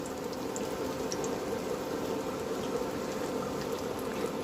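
Egg-dipped food frying in hot oil until golden, giving a steady, dense sizzle and bubbling that stays level throughout with no talk.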